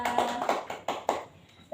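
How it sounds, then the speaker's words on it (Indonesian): A few scattered hand claps in a classroom, quick uneven taps fading out, applauding a student who has just read her work aloud. "Berikan tepuk tangan untuk Mbak Hardika."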